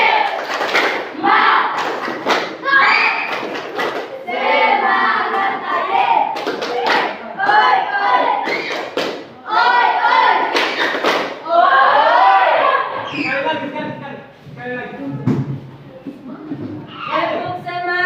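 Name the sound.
class performing a rhythmic spirit clap (tepuk semangat)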